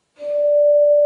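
Pure sine tones a perfect fourth apart, an A joined by the D above it at four thirds its frequency, fade in quickly and hold as a smooth, steady electronic tone for about a second.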